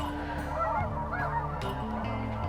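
Snow geese honk repeatedly as a flock circles over decoys in a field in Washington, a steady chorus of overlapping calls at moderate distance, fairly faint, with no talk.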